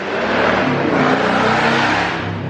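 A tuned BMW F90 M5 making over 700 wheel horsepower roars loudly and steadily at high revs on a dyno, a sustained close-up drone that swells slightly and then eases off.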